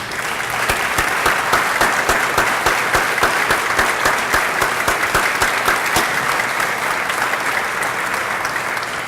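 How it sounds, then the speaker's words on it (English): Audience at a Junior Achievement event in Raleigh claps for standing volunteers, a full, sustained round of applause from many hands with crisp individual claps poking through, steady and loud throughout. "I'm going to ask you to stand this time so we can give you an applause."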